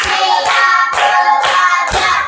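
Loud, close hand claps sound in a classroom counting exercise, five distinct evenly spaced claps with silence between each.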